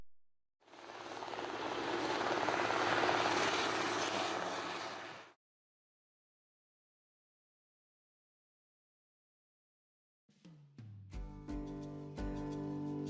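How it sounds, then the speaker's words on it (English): Airbus H225 Super Puma, a twin-engined long-range passenger transport helicopter, landing: a loud, broadband rotor and turbine roar for about five seconds, then silence, followed by a different tonal sound at the end. "The twin-engined, long-range passenger transport helicopter is the most expensive helicopter in the world."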